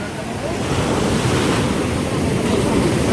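Rough sea surf and waves churn in a constant loud wash, with wind buffeting the microphone, heard at a ferry crossing between Iloilo and Guimaras.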